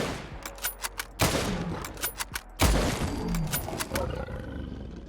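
Two heavy, booming rifle shots from a fully upgraded bolt-action sniper rifle in Fallout 4, each followed by a roaring Deathclaw amid sharp clicks of bolt cycling and rustling game noise, with no talk.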